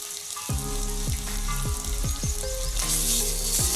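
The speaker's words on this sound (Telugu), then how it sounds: "ఇది అల్లం వెల్లిపాయ పచ్చి వాసన పోయే వరకు ఫ్రై చేస్తున్నాం" Ginger-garlic paste with turmeric frying in oil over fried onions, a steady loud sizzle with repeated scraping strokes of a spoon against the pan, no voices.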